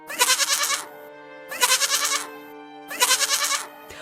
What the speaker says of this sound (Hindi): अचानक मेरे मुंह से बकरी की आवाज आने लगी